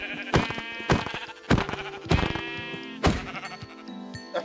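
Sheep in Minecraft bleat repeatedly, about six short, bright, wavering calls at roughly even intervals, each loud and close, with no talk over them.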